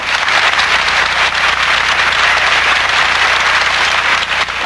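A large crowd bursts into sustained, dense applause, loud and steady throughout with no talking over it.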